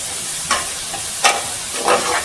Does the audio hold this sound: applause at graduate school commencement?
no